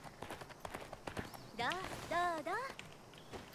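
Horse hooves in the video game Hunter's Arena: Legends clop in a quick, light rhythm at moderate distance, briefly joined by a higher whinny-like call, while someone talks over the game sounds.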